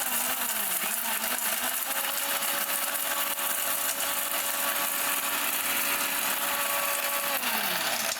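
A Bosch electric blender runs at full power for the whole stretch, a steady loud motor whine with a high rushing buzz, its pitch sagging and then holding level before rising near the end.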